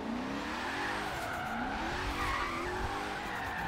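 Tires skid and squeal continuously as a car drifts in the racing video game Forza Horizon 3, with the engine droning underneath at steady loudness throughout.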